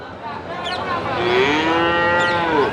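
A young buffalo calf at a buffalo market in Erragadda, Hyderabad, calls out in one long, drawn-out moo with a rising and falling tone, loud and close, with no talking around it.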